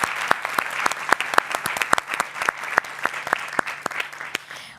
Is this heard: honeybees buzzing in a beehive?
no